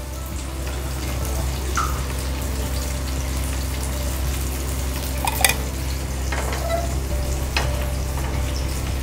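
Oil heats on a hot tawa (griddle) over a gas flame, making a continuous, even sizzle and crackle with a low background hum and a few brief clinks.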